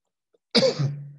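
A single sharp cough bursts out after a brief silence, close and fairly loud, with a rough tail that trails off.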